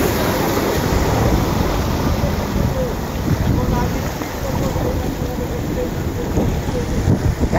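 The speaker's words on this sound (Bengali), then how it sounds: "জোরে পানি এসে গেছে, পানি পড়ছে জোরে।" Heavy rain pours over the sea near a ship stopped by bad weather off the Andaman coast, a dense steady roar with wind and water noise throughout, loud and close, with people talking over it.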